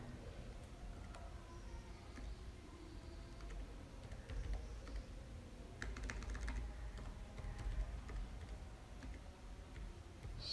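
Soft, rapid typing on a computer keyboard as a ChatGPT prompt is entered, faint, irregular key clicks heard close against quiet background hiss, with no voices.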